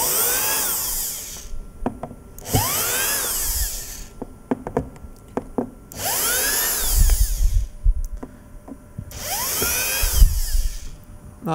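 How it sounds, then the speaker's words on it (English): A power drill whirs in four separate bursts while unscrewing screws, each pitch sliding up then down, with clattering taps and handling noise between them. "All right, put the drill the other way."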